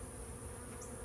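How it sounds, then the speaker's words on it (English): Bees buzz around a nuc hive being taken off a tree, a faint, steady, close insect drone with no talk. "I got bees landing on my hand"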